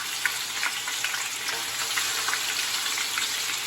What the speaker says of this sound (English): we're gonna sear now